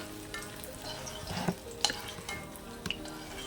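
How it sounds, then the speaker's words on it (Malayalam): Papad fries in hot coconut oil with a soft, steady sizzle, while a utensil occasionally scrapes and taps against the pan. "എടുത്തിട്ട് വെളിച്ചെണ്ണയിലൊന്ന് വാട്ടിയെടുക്കുക"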